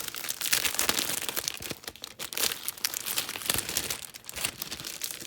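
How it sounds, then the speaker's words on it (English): Paper craft kit packaging crinkles and rustles close up, with steady crumpling and tearing-like crackles that continue for several seconds with no speech. "Sorry about the rustling."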